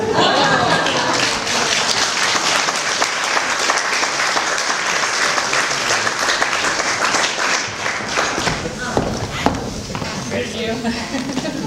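Audience at an annual general meeting giving sustained, dense applause that holds steady for several seconds before thinning into scattered claps, with a few voices underneath.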